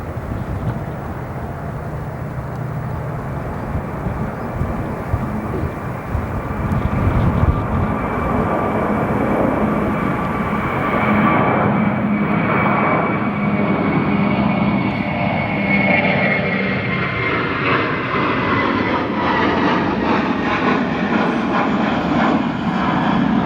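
A Spirit Airlines Airbus A320 departs at night from O'Hare International Airport, a loud continuous engine roar building and then slowly fading with a falling whine as it climbs away.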